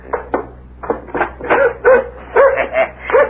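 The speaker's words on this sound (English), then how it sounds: "He's a nice dog." A dog whines, yips and gives short barks at a door, in a series of close, fairly loud bursts with no talk.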